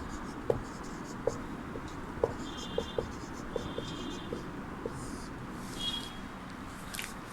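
Chalk or pen writing on a board in a class, with soft scratching strokes and small clicking taps at an irregular pace, faint beside a quiet room, with a voice speaking at times.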